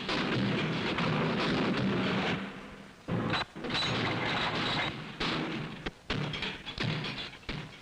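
Remington rifles test fired during function firing, heard as loud, heavy booming blasts that roll into sustained rumble, with a few short breaks between bursts.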